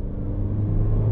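A Mini Cooper engine pulls hard in second gear, a loud, steady low rumble with a rising tone that climbs through the short burst, heard close from inside the car with no talking.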